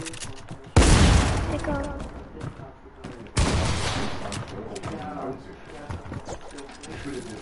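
Two sharp, booming sniper rifle shots from a video game ring out a few seconds apart, each trailing off into an echo, with someone talking casually in German between them.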